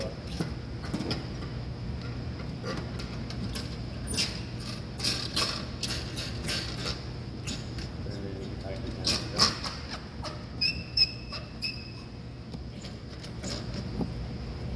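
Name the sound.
closing up a Despatch batch vacuum oven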